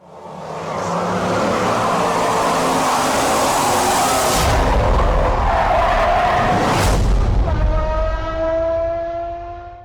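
A Geely EC7 (Emgrand) sedan's engine drones steadily from inside the cabin while driving. A broad, continuous road-and-engine roar rises and falls with a couple of swells, and no one speaks.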